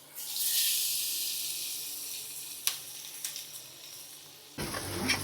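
Ginger garlic paste hits hot butter and oil for pav bhaji and bursts into a loud, bright sizzle that slowly fades, broken by a few sharp clicks and finished with a clattering stir of the pan.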